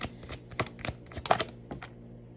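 Tarot cards being shuffled and drawn close by, with a short run of soft, quick card slaps and riffles in an uneven rhythm, fairly quiet and without talking.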